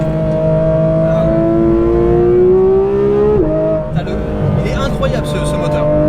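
A Porsche GT3 RS with a 3.8-litre engine and aftermarket exhaust runs on a dyno, its loud engine note climbing steadily in pitch through the gears before a sharp drop and a renewed rise.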